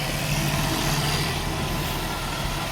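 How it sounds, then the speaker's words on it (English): A truck's diesel engine idles loudly during walk-around checks before towing a race car trailer, a constant low rumble with steady mid-range drone, close and uninterrupted with no talk. "Sorry if it's a bit loud, the engine's running."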